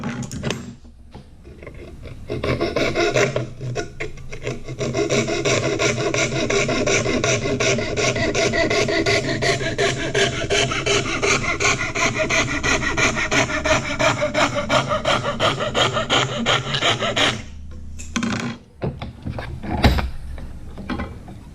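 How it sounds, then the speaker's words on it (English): A hand saw rasps steadily through wood in fast, even back-and-forth strokes for about seventeen seconds, then stops briefly before a few final scrapes. "just cut slowly, follow the line and cut all the way down"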